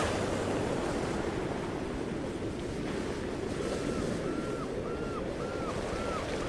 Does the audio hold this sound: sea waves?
yes